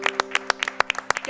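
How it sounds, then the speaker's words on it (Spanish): Scattered, distinct hand claps from a small audience welcoming Lucas Poggi, an Olympic swimmer and model, at an interview event, a handful of crisp claps in quick irregular succession over a faint steady hum. "Fuerte aplauso para Lucas Poggi"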